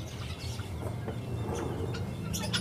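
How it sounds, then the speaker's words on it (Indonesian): Guineafowl clucking and calling at a busy animal and fish market in Jatinegara, Jakarta: a steady stream of close bird cackles over constant market background noise. "Ada ayam mutiara"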